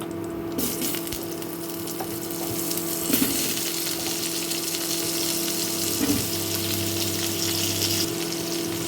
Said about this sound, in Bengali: আলুটাকে আমি প্রথমে একটু ভেজে নেব